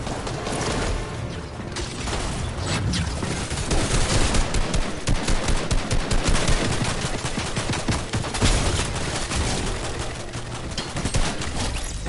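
Fortnite gunfire rattles in loud, dense bursts of rapid shots that overlap in a continuous fusillade for the whole stretch, with no clear voice on top.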